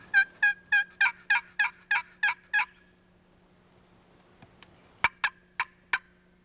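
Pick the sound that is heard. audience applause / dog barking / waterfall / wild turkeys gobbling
wild turkeys gobbling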